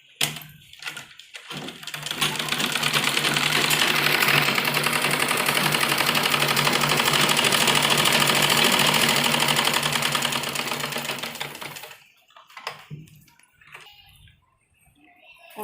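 A sewing machine hums and rattles steadily for about ten seconds, stitching a folded hem along the edge of palazzo pants, with a brief start and scattered handling clicks before and after the continuous run.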